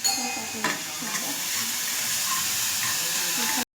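Garlic paste and tomato sauté in a pan, making a dense, steady sizzle with a few soft stirring knocks near the start before it cuts off abruptly.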